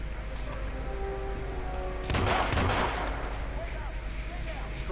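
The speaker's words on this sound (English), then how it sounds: "the easiest way to make them move is just shoot 4 times" Gunshots fired near an enforcer in Hitman, a short burst of several quick shots in a cluster midway, standing out from a steady background hum.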